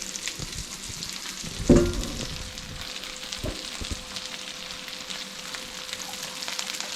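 Swedish meatballs fry in a pan with a steady, close sizzle and crackle, broken by a single louder clunk early on and a few softer knocks; no one speaks.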